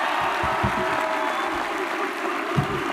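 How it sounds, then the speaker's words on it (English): Sustained audience applause fills a military induction ceremony hall, a steady dense patter of many hands at even loudness with a few sharper claps near the front and faint crowd murmur beneath. "let's have another round of applause"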